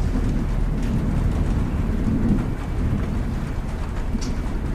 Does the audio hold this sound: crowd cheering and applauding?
no